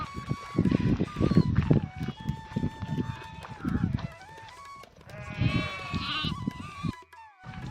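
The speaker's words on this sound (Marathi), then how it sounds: "हेच वाळलेल्या काड्या आपली मेंढरं खात्यात आहे बघा" Sheep bleat loudly and repeatedly near at hand, several voices overlapping, while the flock chews on dry sticks in a dry pasture with little grazing.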